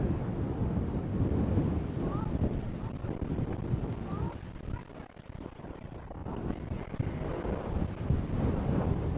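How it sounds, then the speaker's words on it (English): Strong west-southwest wind of about 25 mph, gusting to 40, roars and buffets the microphone at an outdoor high school baseball game, a steady loud rumble with surging gusts throughout. "I'm serious when I say I've never seen wind like this at a ball game."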